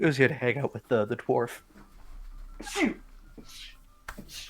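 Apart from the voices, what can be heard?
sneeze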